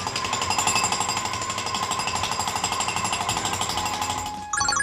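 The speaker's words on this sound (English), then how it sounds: "When I walked by a construction site," A jackhammer pounds at a construction site in fast, even bursts, loud and close, running steadily before cutting off near the end.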